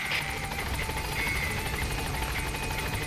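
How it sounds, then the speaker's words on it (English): A support helicopter's rotor in Metal Gear Solid V chops steadily overhead, a rapid rhythmic thudding with a constant engine whine beneath it. "Support helicopter. This is Pequod. I have arrived at marker"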